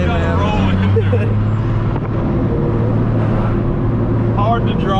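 Built 12 valve Cummins diesel truck drives with a loud, steady low engine drone filling the cab, rising slightly as it shifts into third, while people talk over it.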